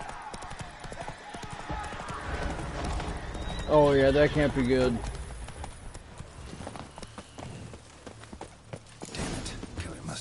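Geralt's horse Roach gallops in The Witcher 3: Blood and Wine, a steady rapid clatter of hooves with a brief whinny-like cry in the middle, under a man's speech.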